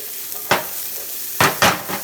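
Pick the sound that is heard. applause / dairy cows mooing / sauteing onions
sauteing onions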